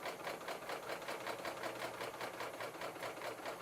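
A serger stitches fabric with a seam guide attached, a rapid, even, rhythmic mechanical chatter that runs continuously at low volume close by.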